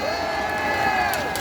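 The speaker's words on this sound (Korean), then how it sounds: "박수 한번 쳐봐요." A crowd at a Korean political rally cheers and shouts with a sustained, excited roar of voices, with a few faint claps near the end.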